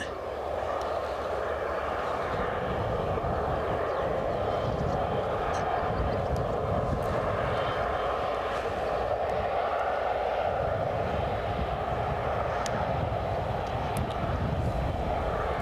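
A British Airways Airbus A320-200 near Aberdeen airport gives a steady, broad roar of jet engines that holds at an even level throughout, heard from a distance outdoors.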